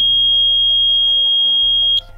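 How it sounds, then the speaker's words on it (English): A water level indicator circuit's buzzer for an air cooler or rooftop tank sounds a loud, steady high electronic tone, signalling the tank is full, holding for about two seconds before cutting off. "In that certain period, the buzzer stays on."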